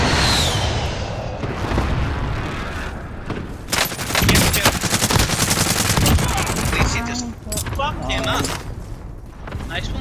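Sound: gunfire in the video game Warzone

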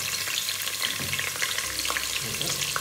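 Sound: cloves, cardamom and cinnamon frying in oil

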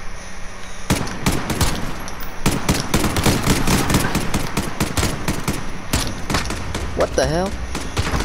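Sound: gunfire in Call of Duty: Modern Warfare, a video game

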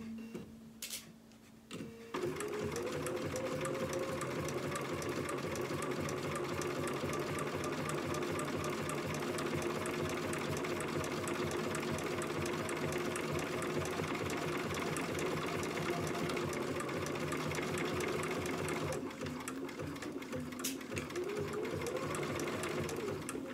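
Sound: sewing machine stitching red rickrack onto a dress

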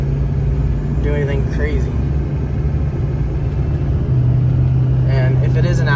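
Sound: diesel vehicle driving and shifting gears

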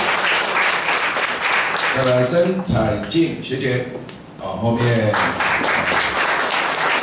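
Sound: audience applause

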